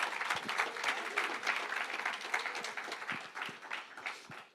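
A church congregation applauds during a Sunday anniversary service, with continuous brisk clapping from many hands at moderate level, steady for several seconds with no speech over it.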